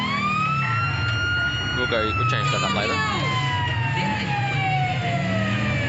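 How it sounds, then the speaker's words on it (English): Default police siren in the LSPDFR mod for a driving game wails in long, steady rising and falling sweeps, loud and continuous, with a brief spoken remark over it. "You can see that default siren"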